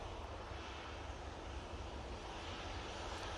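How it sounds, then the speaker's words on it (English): A passenger jet makes a derated takeoff at Manchester Airport on a flight to Palma, its engine roar a steady broadband rush heard from a distance, faint and with no talking. "That is a mightily derated takeoff."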